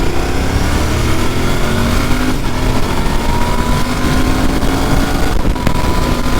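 A Royal Enfield Bear 650 motorcycle engine drones loud and close while riding, its pitch climbing steadily through the gears over a constant rush of wind, with no talking.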